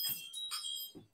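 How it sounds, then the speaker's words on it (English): A wind chime hanging in a shop doorway gives a few light, separate bell-like tinkles, quiet and close, with short gaps between strikes. "It's symbols of faith, wind chime."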